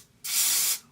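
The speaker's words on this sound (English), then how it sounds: "The easiest technique for me with this is I just spray the comb like this." Spray bottle spraying onto a comb to melt a curly wig's lace: one close, steady hissing burst about half a second long, alone against quiet.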